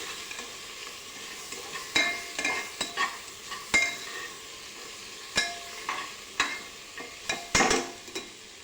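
Masale bhat rice is stirred with chilli powder and Everest masala in a pan, a soft frying sizzle underneath irregular scraping strokes of a spoon against the pan, about a dozen distinct stirs.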